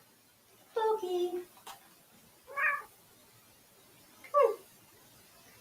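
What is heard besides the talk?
cat meowing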